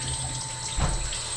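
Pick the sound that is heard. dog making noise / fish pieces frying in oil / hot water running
hot water running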